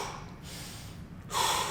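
A person breathing while holding a handstand, a slow faint exhale followed by a sharper, louder inhaled breath up close.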